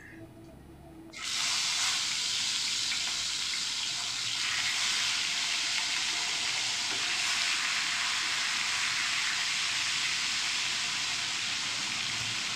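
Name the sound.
fish frying in hot mustard oil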